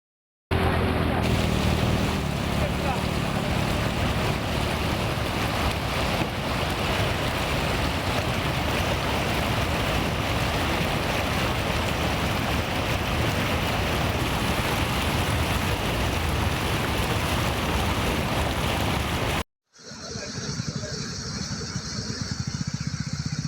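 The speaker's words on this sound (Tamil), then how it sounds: "வைப்பாற்றில் வெள்ளப்பெருக்கு ஏற்பட்டு தரைப்பாலம் மூழ்கியதால் போக்குவரத்து பாதிக்கப்பட்டுள்ளது." Floodwater of the Vaippar river rushing over a submerged causeway near Sattur, a loud, steady roar of churning water with wind buffeting the microphone, cutting off abruptly near the end.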